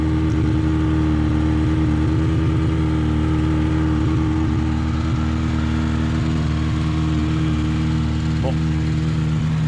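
A Honda CB 750 KZ motorcycle engine, just restarted and in need of timing chain tension, runs steadily at a loud, close idle throughout, with a voice speaking briefly over it.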